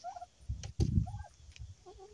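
Chickens and turkeys cluck and gobble nearby in short, fairly faint calls, with a few low thumps and rustles in between.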